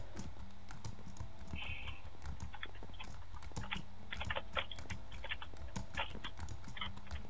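Fast, irregular computer keyboard typing during gaming: a steady stream of quick key clicks and clattering presses, some in bursts, fairly close but quiet, with no talking.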